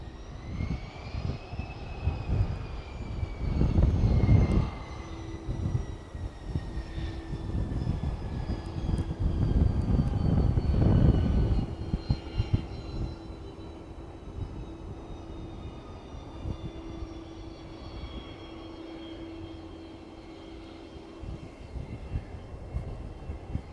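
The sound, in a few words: aircraft lining up on runway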